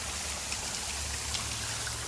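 A small monsoon waterfall stream near Matheran at Jummapatti rushes in a constant, even broadband wash of falling and flowing water, with no talk.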